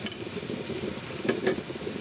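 Ginataang papaya being stirred in a pot over a wood fire: a soft continuous sizzle with a few brief utensil scrapes and clinks against the pot, close up.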